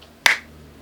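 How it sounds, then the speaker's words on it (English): One sharp, crisp hand clap made just in front of the face rings out once in a quiet room, brief and close, then fades quickly. "I'll get you to do a clap just in front of your face."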